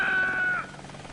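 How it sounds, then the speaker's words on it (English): A helicopter in the Vietnam-era combat game Air Conflicts: Vietnam passes with a loud whining drone that slides down in pitch and fades into a low rotor rumble. "There goes the fucking chopper."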